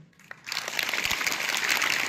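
An audience at a college poetry recitation breaks into applause after a poem, a dense, steady patter of many hands clapping that begins suddenly and continues unbroken.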